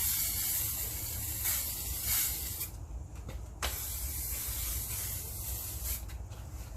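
Spray-painting the edges of an acrylic pour painting: a steady, close, continuous hiss of aerosol spray running throughout, with brief dips and small bursts where the spray pauses or shifts.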